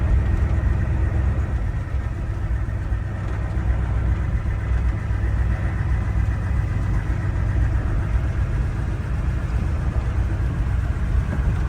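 A Ford diesel truck engine rumbles steadily on a trail, running low and heavy with a constant drone close by throughout. The engine was barely idling and showed low oil pressure before the throttle was applied.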